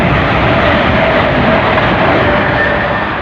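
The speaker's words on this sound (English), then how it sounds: "222-016 working the service from Sheffield to London St Pancras" A Class 222 train, unit 222-016 on a Sheffield to London St Pancras service, rushes through Hendon station as a loud, steady, broadband roar of engine and wheel noise that holds for several seconds with no talking.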